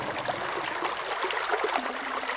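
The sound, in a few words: gurgling underground water stream flowing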